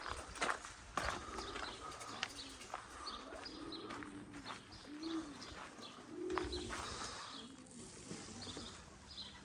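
Young racing pigeons cooing softly in a loft during training, low repeated coos mixed with faint chirps and light shuffling, fairly quiet and close.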